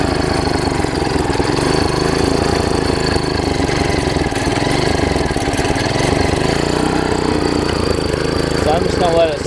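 An MTD front tine tiller's small engine, running rough on old gas, drones loud and close at idle with an uneven, sputtering chug throughout.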